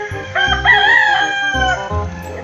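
A rooster crows close and loud, one long drawn-out call that rises and then trails off, with some clucking from nearby chickens underneath.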